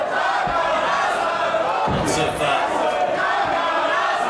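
Split wrestling crowd inside Huxley's in Berlin for an ROH world title match, a dense continuous roar of mixed cheering and chanting with shouts rising through it, loud and sustained, with a commentator talking over the top.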